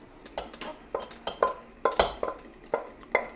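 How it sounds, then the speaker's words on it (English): A spoon stirring oats with fruit in a pan, with about a dozen quick scraping clinks against the metal in an uneven rhythm, close and fairly soft. "Give it a bit more of a stir."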